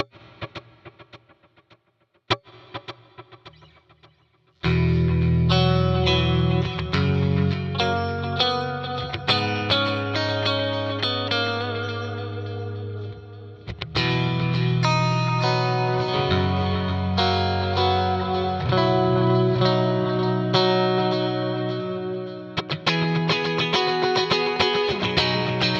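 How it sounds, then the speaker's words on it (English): Distorted electric guitar run through a delay effect whose repeats are themselves repeated, building a dense, galloping echo pattern; a few sparse plucked notes open before a loud sustained riff takes over and continues to the end. "it's going to get a repeat, and it's going to try to repeat the repeat after"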